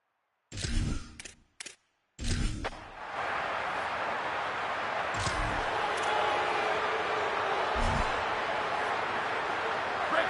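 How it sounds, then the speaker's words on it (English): A football stadium crowd roars steadily with the game on the line in overtime, a sustained loud wash of cheering rising after brief bursts of commentator speech at the start. "Listen to this crowd begging its defense to get a stop"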